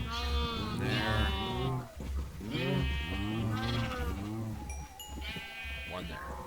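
Sheep in the video game Minecraft bleating repeatedly, several overlapping wavering baa calls in close succession, loud and near, filling the whole stretch with small game sounds mixed in.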